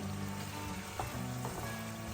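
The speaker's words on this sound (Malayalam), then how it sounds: "ആ ഗീൻ്റെ അകത്ത് ഫ്രൈ ആവുക ചിക്കൻ" Chicken pieces frying in ghee for a chicken ghee roast make a steady close sizzle that runs throughout, with a couple of brief stirring scrapes partway through.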